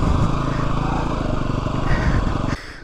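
A KTM EXC-F 250 four-stroke dirt bike engine runs loud and close with a steady, throbbing drone that holds for over two seconds, then cuts off abruptly near the end.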